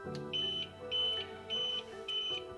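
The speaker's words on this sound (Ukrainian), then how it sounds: "Ви під час запису чуєте постійно, що він пищить." A homemade inverter power unit beeps periodically: four short, shrill, evenly spaced beeps close by over a steady droning background.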